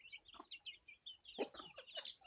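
A mother hen clucking softly close by, a few short, faint clucks and chirpy calls in a quiet setting, with no talking.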